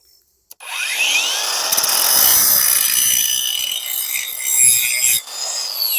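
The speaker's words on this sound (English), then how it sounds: "And now we can grind on the end of this post." A Mellif cordless angle grinder running on a DeWalt 20 volt battery, grinding the end of a post on its high setting: a loud, close, continuous high-pitched whine and abrasive rasp lasting several seconds, rising slightly near the end.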